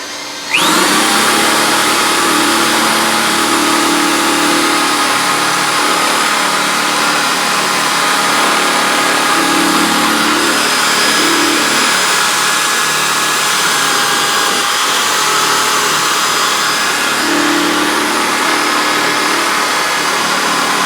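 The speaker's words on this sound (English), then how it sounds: "I'll go in slow just to pick up the polish onto the ball, and then I'll speed up and I'll polish that little chrome piece" A polishing ball mounted on a drill spins up and whirs against chrome car trim in one loud, steady, high whine that runs without pause for about twenty seconds. The sound is close, and no one speaks.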